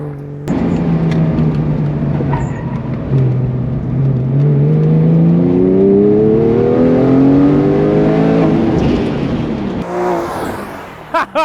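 LS1 V8-swapped Porsche 911 on a race track: a loud, close engine roar climbs steadily in pitch as the car accelerates through the gears, then a brief lift and a few faint clicks at the end.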